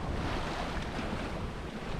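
Squally 25 to 30 knot winds roar steadily around a sailing boat crossing the Atlantic, with waves washing and wind buffeting the microphone in a dense, continuous rush and no voices.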